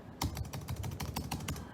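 Fast typing on a laptop keyboard being compared against a second laptop, the Turbo LiteBook: a close, crisp run of key clicks in an uneven rhythm with no talking.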